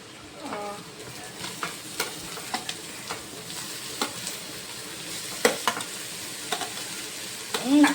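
Ginger, garlic and green chili fry in a pan with a steady, close sizzle, broken by repeated clicks and scrapes of stirring. A brief voice sounds near the end.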